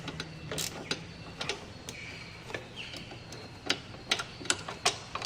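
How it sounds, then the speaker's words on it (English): Bolt being wound back in by hand on a damaged exhaust, small metallic ticks and ratcheting clicks at an uneven rhythm, close and fairly quiet, with a few sharper clicks toward the end. "Now I've got to wind it back in without cross-threading or damaging it so I can get my socket."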